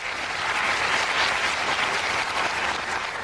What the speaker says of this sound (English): Now clap backwards.